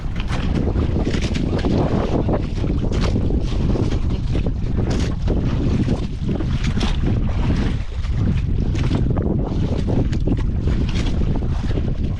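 Strong, steady wind roars across the microphone for the whole stretch, a loud broadband buffeting with gusty swells and no voices.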